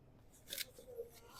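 One crisp snip from wire cutters clipping a tie while unboxing a folding e-bike, close and quiet, with a faint rustle after.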